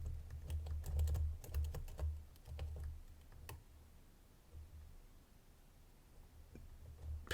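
A Ruko 1200 series lock being picked, faint quick metallic clicks and ticks clustered early then sparse, close and quiet with no speech.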